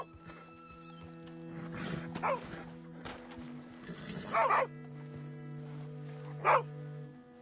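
A dog in Red Dead Redemption gives three short separate barks over a steady droning background with faint clip-clop and movement noises.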